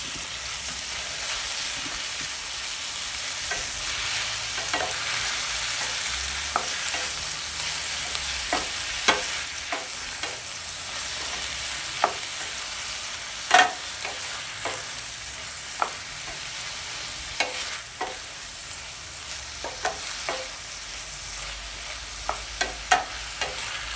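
Tomatoes sauté with onion and green chilli in a pan for Tamil-style tomato rice, a steady close sizzle broken by frequent sharp scrapes and clicks of a stirring spoon, with no talking.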